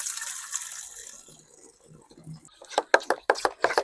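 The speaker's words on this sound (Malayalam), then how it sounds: "ഒരു ലിറ്റർ വെള്ളം കൂടെ നമുക്കൊന്ന് ഇതിലേക്ക് ആഡ് ചെയ്ത് കൊടുക്കണേ" Water splashes and knocks into a container in short bursts as a liter is poured into a homemade rose pesticide mix, near and fairly loud, after a quieter stretch at the start.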